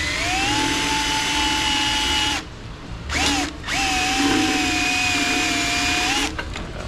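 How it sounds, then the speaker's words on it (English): A power drill drilling out the rivets of an oil pan gasket on a Silverado 6.2 engine: two long, loud, steady whining runs at high pitch separated by a short burst, close and without talk. "So you have to drill the rivets out here and here to get the gasket off."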